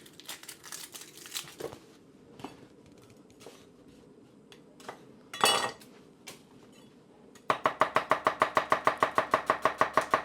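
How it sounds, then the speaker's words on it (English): A knife slices through onions on a board for broccoli and cheese soup: scattered soft cuts and rustles at first, then a rapid, steady run of about sixteen crisp, loud chops close by, with no talking. "Onions just sliced."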